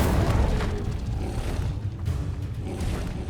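An Incendio fire spell cast in the Hogwarts Legacy video game: a loud, continuous roaring, rumbling burst of flame that fills the short moment without pause.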